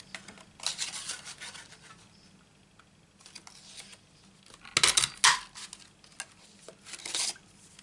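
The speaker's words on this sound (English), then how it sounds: "Cut this out, punch it out." Paper card pieces being cut out and punched for a handmade stamped card, heard as intermittent crisp rustles and snips with a louder cluster of sharp clicks and crunches midway, close and without speech.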